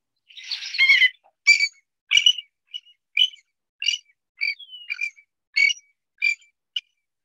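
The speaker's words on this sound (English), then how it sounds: "That was an angry willet." A loud, clear willet call opens with a harsh scolding burst, then a series of sharp, evenly spaced piercing notes, alone against silence.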